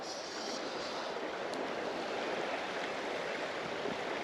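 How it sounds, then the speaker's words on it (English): River Doon stream water in Ayrshire, Scotland flows in a constant, even rushing hiss, near and steady throughout, with a faint touch of wind on the microphone and no talking. "There you are, folks, that's the River Doon."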